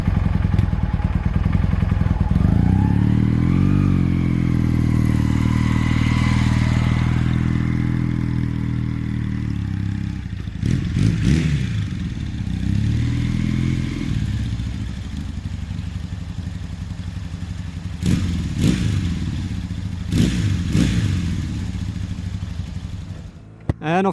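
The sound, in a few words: Honda CB450 motorcycle engine on a test ride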